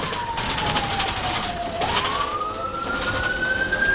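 An ambulance siren in Haiti wails steadily, its pitch sliding down and then rising again, over a constant rumble of street traffic.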